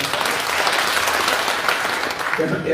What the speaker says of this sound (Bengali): এর আমরা একটু জোরে হাততালি দিই আবার